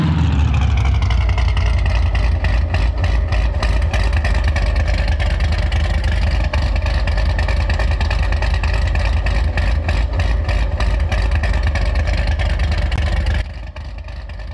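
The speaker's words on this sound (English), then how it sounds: "So it's a big cam LS3 Chevy engine" A big-cam LS3 Chevy V8 in a 1969 Camaro in the BeamNG.drive video game idles with a loping, choppy rumble, steady and close for about thirteen seconds before dropping quieter near the end.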